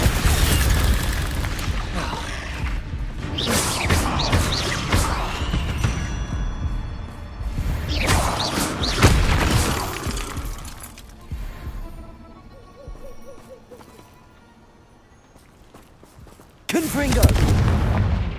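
Confringo fire spells burst repeatedly in Hogwarts Legacy gameplay, a series of loud booming blasts and crackling bursts spread through the clip, with a dip into quieter rumble before a final sharp explosion.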